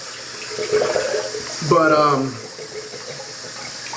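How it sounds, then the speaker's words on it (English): Tap water runs steadily into a sink with no stopper during a shave, a continuous rushing splash throughout while someone speaks briefly over it. "I'm going to keep this water running. This sink does not have a stopper"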